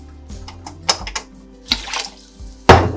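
Homemade chicken broth pours into a pot of rice in brief splashy bursts, with lid and pot clinks between pours, close and fairly loud.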